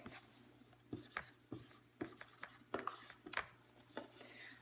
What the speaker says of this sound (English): I'm going to write a sentence, and we're going to read it together